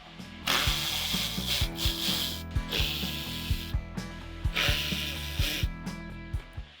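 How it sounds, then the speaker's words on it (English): Ratchet driver with a Phillips head bit clicking rapidly as bolts come out from underneath the front bumper of a BYD Shark 6, in repeated bursts of close, crisp mechanical ticking with gear-like rubbing between. "Underneath the bumper, remove these 3 bolts using a Phillips head bit."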